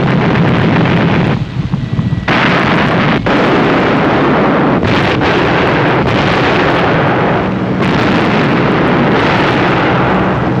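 Bombs exploding and anti-aircraft guns firing on the battleship Tirpitz during an air attack, a loud continuous roar of blasts and gunfire with brief lulls, heavy and distorted throughout.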